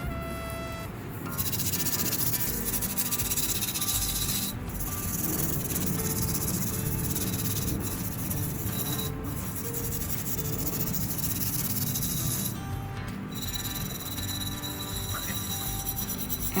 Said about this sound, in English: After a few minutes of scrubbing, I see the greasy part.